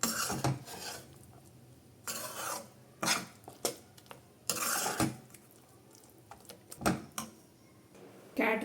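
Ground ridge gourd chutney is stirred with oil in a pot, bursts of close scraping and clinking from a spoon against the vessel, repeating unevenly with brief pauses.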